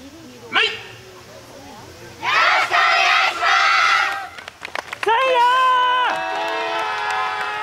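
A crowd at the TOCHIGI yosakoi festival cheers for a yosakoi dance team, with loud shouts and bursts of cheering in waves, near and lively, with an announcer talking at the start.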